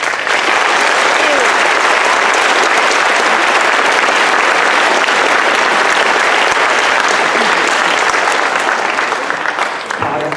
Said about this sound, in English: we just want to give them a big round of applause